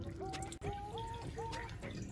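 Water drips and trickles from a heavy, soaked wool sweater, a short run of wet splashing drops with small gurgling tones that rise in pitch, all close and fairly quiet.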